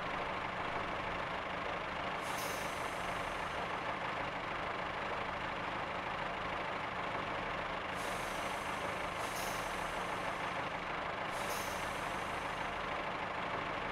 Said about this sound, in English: Full service brakes.